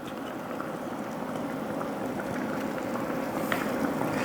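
Water at a rolling boil in a pot for pork bistek, a steady dense bubbling hiss that holds even throughout with no voices.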